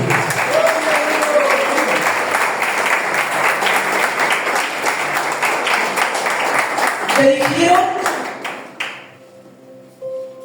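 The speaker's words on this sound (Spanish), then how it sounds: "Aplauda si le va a aplaudir." A church congregation at a Spanish-language service claps loudly and continuously, a dense rattle of hands with voices calling out over it, then it fades to quiet.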